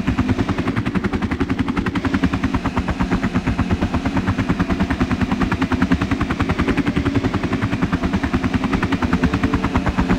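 Sustained rapid automatic gunfire from a video game battle rattles on loudly and continuously, a rhythmic mechanical burst with a heavy low rumble and no pauses.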